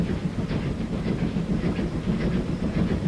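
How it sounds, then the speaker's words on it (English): Game train sound from Transport Fever 2, a London South Western Class 440 unit, rolling steadily with constant low rumble and faint clacking and hiss, moderately loud and alone without talk. "Have a look at this new train. So this is the 440 London South Western."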